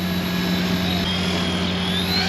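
Small Eachine E110 toy helicopter flying outdoors, its rotor giving a steady, continuous high whirring drone with a constant motor whine, close to the microphone and alone with no voices.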